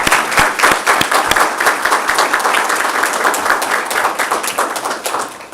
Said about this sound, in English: Y'all give a round of applause.